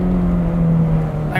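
Ferrari 430 Scuderia V8 engine idling or running steadily close by, a loud continuous low hum with a strong steady tone and faint talk underneath, swelling slightly at the very end.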